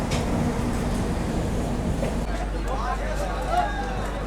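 Howrah Mumbai Duronto Express pulling out of Howrah railway station, a steady low rumble of rolling stock and station hubbub running throughout, with faint squeals later on.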